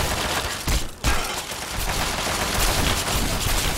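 Continuous gunfire from Fallout 3 near the Arlington Library, a dense fusillade that runs throughout with sharp bursts and one short gap near the one-second mark, loud and close with no talk.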